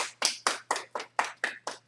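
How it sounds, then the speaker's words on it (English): Eight sharp claps or taps in a steady rhythm, evenly spaced about a quarter second apart, fairly close and moderately loud, with nothing else heard around them. "So give her a round of applause for that."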